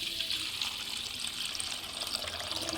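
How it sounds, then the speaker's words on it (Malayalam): Water poured off washed butter, a soft continuous gush that stays faint and even throughout. "വെണ്ണ കഴുകി ഇങ്ങനെ ഒഴിക്കുന്നത്"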